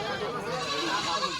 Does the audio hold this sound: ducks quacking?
no